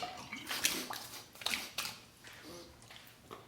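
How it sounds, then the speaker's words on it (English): Tap water runs and splashes in irregular bursts as a face is rinsed with hot and then cold water after shaving, close and fairly quiet, with hands sloshing through the stream. "Final rinse on the face, hot and then cold water."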